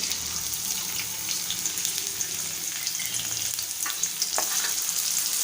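Finely chopped medium onion hits hot oil for tempering, cooking Malvani-style methi bhaji, with a steady close sizzle and crackle. Spoon stirring and light scraping run through the frying, with no talking.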